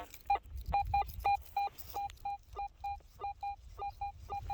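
A metal detector's electronic target tone beeps over and over in quick, slightly uneven pulses above a low background rumble, at an old 1872 homesite.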